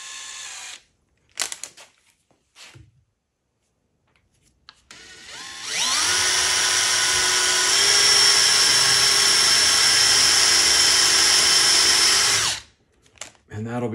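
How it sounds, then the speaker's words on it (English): A small center drill cuts a starting hole in aluminum, running as a steady, loud whine for about seven seconds. Brief clicks and handling noises come before it, and it stops abruptly. "I'm just going to use a small center drill."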